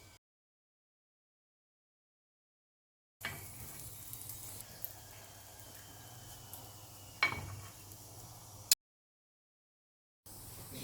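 A sweet potato wheat poli sizzles faintly on an oiled griddle for a few seconds between silent gaps. There is a soft hiss and an occasional light scrape.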